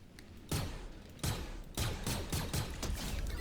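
Gunshots in the Fortnite video game, a handful of fairly muffled heavy bangs roughly every half second to second, set against steady game background noise, with no voices.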